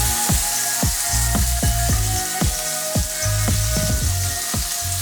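Food fries and spatters in a hot pan for a quick lunch, with a steady loud sizzle broken by repeated sharp pops and crackles in an irregular rhythm, heard alone without talk.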